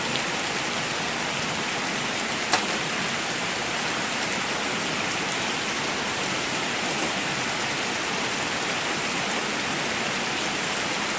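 Heavy rain pours down steadily on an outdoor campsite, a dense continuous hiss with a single brief sharper tap near the start.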